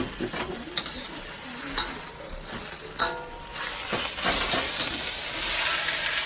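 Home-grown baby bok choy cooks in a pan with a dense, continuous sizzle and hiss, with occasional scraping and clicking from stirring close by. There is little or no speech.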